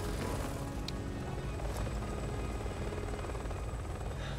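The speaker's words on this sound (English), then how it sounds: "Helicopter." A helicopter in Resident Evil 6, its loud, continuous rotor thrum and engine whine steady and close throughout, with no voices.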